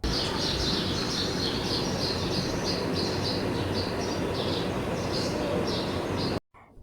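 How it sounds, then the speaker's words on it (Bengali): Birds chirping near a house in a rapid repeating series of high calls over a loud broadband background, sustained for several seconds before cutting off abruptly. "আমাদের বাসায় প্রথমবার কোনো পাখির শব্দ আসছে"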